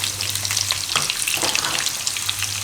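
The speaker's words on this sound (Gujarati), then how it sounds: "તો તેલમાં આપણે ડુંગળી નાખી દેવું" Large-cut onion frying in hot oil on full heat for a soya nihari gravy, an intense continuous crackling sizzle with busy popping and a few stirring movements, close and loud, without voices.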